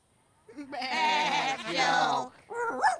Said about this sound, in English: Dogs also work on farms herding sheep